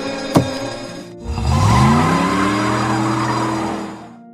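A car started without a key, a sharp click followed by the engine catching and revving up loud and close, then pulling away with a steady rising drone.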